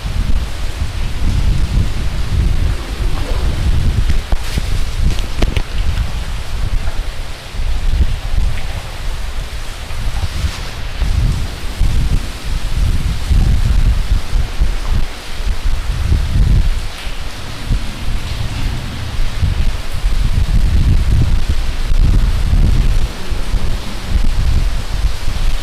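Heavy rain pours steadily around a bridge while low thunder rumbles in rolling waves, with wind adding to the dense, loud wash heard from the shelter underneath, no one talking.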